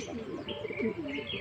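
A racing pigeon coos softly up close in a series of low, throaty murmurs, joined by faint chirps from other birds in a loft. No one speaks.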